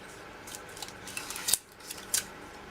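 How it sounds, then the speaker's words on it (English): Scissors snipping excess clear tape off the top of a box craft, a few quiet crisp snips spaced apart over soft background hiss. "Cut off all of your excess tape on the tops."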